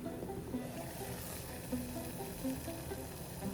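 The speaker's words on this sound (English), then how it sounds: "Now it is boiling." A pot of water bubbling and simmering steadily up close, with a soft continuous hiss and faint gurgling pops.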